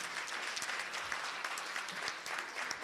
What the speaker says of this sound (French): applaudissez bien les 5 jeunes